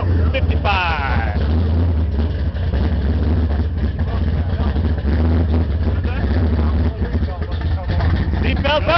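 A '57 Chevy's big-block 454 V8 with a high-rise carburetor and fender exit headers rumbles steadily close by, its deep throaty idle running throughout while people talk over it.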